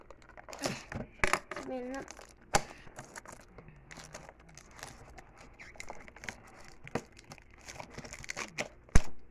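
Yu-Gi-Oh trading card pack being torn and punctured open with a pen, giving close crinkling and ripping foil-wrapper sounds in short bursts, with people talking throughout.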